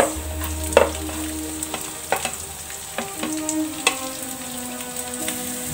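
Onion goes into hot oil with garlic in a pan for pancit guisado, a steady close sizzle and crackle with occasional stirring clicks, no talking.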